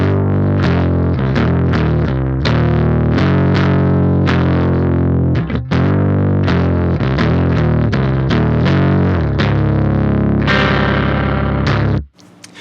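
Electric guitar played through a Totally Wycked Audio Chemical Z dual overdrive pedal into a Boss Katana amp, loud distorted chords and riffs with heavy low end, continuous for about twelve seconds before cutting off abruptly.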